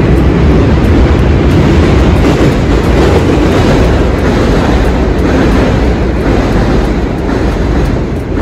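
Metro train passing along McGraw Avenue in Parkchester, the Bronx, a loud, close, continuous rumbling roar with faint rhythmic clatter held for several seconds, no voices.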